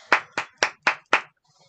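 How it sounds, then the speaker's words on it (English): Five sharp hand claps from a single person in a podcast recording, evenly spaced about a quarter second apart, close and fairly loud, followed by near silence. "I'll probably edit in some applause, some generic applause sound"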